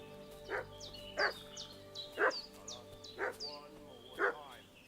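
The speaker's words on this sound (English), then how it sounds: "What's that dog making such a fuss about?" Dog barking in the medieval game Kingdom Come Deliverance 2, five separate sharp barks spaced about a second apart, moderately near, with quiet background ambience and no talk.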